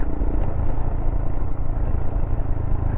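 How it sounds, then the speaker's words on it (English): A Royal Enfield Himalayan motorcycle engine braking in second gear while descending a rocky trail near Red River, New Mexico, a steady close rumble with rattling clatter throughout. "Use some downhill engine braking around."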